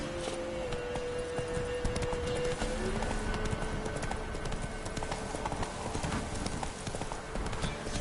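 Steady clip-clop of a horse's hooves trotting in The Witcher 3: Wild Hunt, a continuous rhythmic beat under a dense, busy background for the whole stretch.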